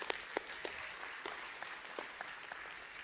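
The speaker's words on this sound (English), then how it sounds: "Yeah, you can clap for that." Audience applause rises from a church congregation during a sermon, steady dense clapping with a few sharper claps standing out, moderately loud and continuous for about three seconds.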